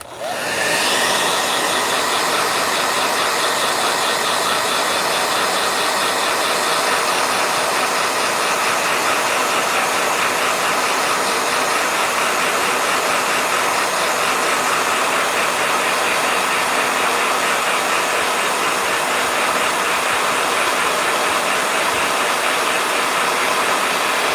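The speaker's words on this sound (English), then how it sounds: "Blow dryer, hold on." A blow dryer switches on and runs at a loud, steady roar for well over twenty seconds, an unbroken airy whoosh close by with no voices over it.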